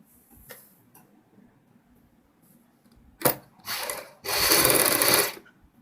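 A sewing machine stitches a sleeve onto a girls' top in short bursts: a quiet stretch, a brief run, a pause, then a longer, louder stretch of rapid needle clatter up close, with no talking.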